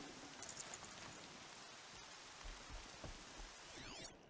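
Rain falls in the Horizon Zero Dawn video game as a soft, steady hiss, faint and continuous, with a few small game sounds mixed in.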